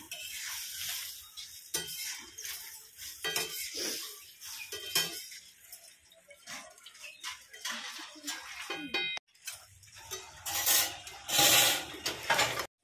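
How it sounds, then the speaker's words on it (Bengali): Potatoes being stirred in a pot of water, faint clinks and scrapes of a utensil against the metal with soft sloshing, quiet and intermittent with brief pauses. "এবার আমরা এটাকে একটু নেড়ে চেড়ে নেব।"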